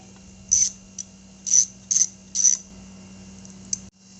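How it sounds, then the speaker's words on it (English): An 8mm socket ratchet loosens a brake reservoir mount bolt on a 2008 Suzuki Boulevard motorcycle, giving four short, close metallic ratcheting bursts at an uneven pace, with a faint click in the pauses and no talk. "Now you gotta use a 8mm socket. Take this brake reservoir mount bolt out."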